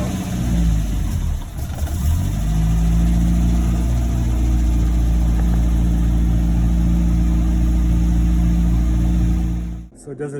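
A 1972 Land Rover Series 3 starts in sub-zero cold, cranking briefly before catching into a loud, steady rumbling idle that runs close by, then cuts out near the end.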